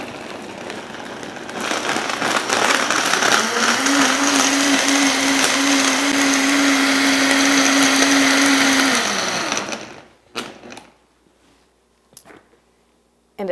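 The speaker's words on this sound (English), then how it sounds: "I'll put the top on now. Turn my blender on." A kitchen blender whirs loudly while making an oatmeal cookie smoothie with cinnamon. It roars steadily for about eight seconds with a rising hum, then winds down, followed by a few clunks.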